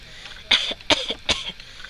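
Three short, throaty coughs from a little child come at an even pace, each one close and distinct against a quiet room.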